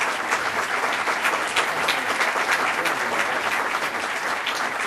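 Sustained audience applause for Homeland Security Secretary Michael Chertoff after his 2007 year-in-review address, dense and steady throughout with no voices over it.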